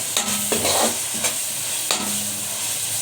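Spices with ginger garlic paste being stirred and fried in a pan for fish curry, giving a steady soft sizzle broken by a few scraping stirs of a spoon, close and alone.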